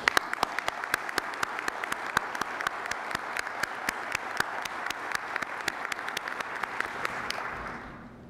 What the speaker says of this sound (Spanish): pido a él un fuerte aplauso.